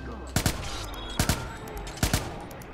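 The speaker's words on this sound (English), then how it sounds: "We just have to shoot our way out." Gunfire in the video game Watch Dogs: three short bursts of two quick shots each, spaced about 0.8 seconds apart, loud and punchy over a constant background rumble of game ambience.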